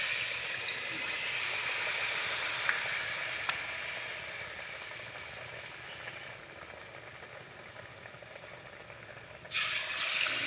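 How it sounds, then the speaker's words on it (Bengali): Batter-coated eggplant slices (beguni) sizzle in hot oil, a steady hiss that slowly eases, then flares louder at the end as more slices go in. "গরম তেলের মধ্যে ছেড়ে দিবেন।"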